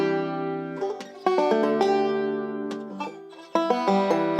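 A banjo plays chords fretted on the neck in a quick sequence of bright, plucked strums with shifting pitches, a few sharper attacks and short pauses between phrases, no talking.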